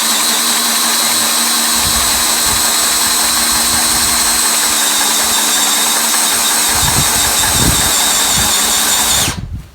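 A power drill bores straight down into a timber frame, whining loud and steady for nearly ten seconds, with a low motor drone and brief bumps of load before it cuts off abruptly.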